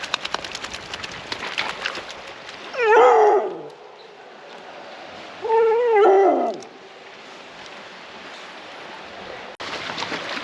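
A dog howls and whimpers twice inside Smoo Cave, two drawn-out wavering cries a few seconds apart, clear and fairly close against a steady background hiss.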